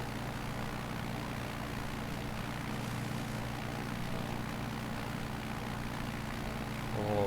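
Propeller airplane engine in Microsoft Flight Simulator hums in a steady, continuous drone while flying in a 15-knot crosswind, moderately loud and unchanging, with no voices.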